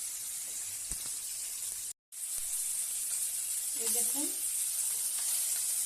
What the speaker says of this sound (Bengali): খুব বেশি কড়া না করে এই মাছ ভেজে নিলাম